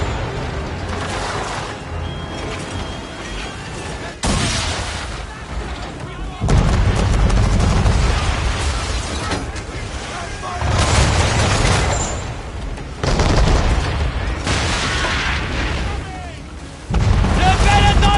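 Cannon fire aboard the ship Belladonna in Assassin's Creed 3 during a naval battle, with heavy booms and rumbling blasts recurring every few seconds amid dense battle noise, and voices shouting over the din.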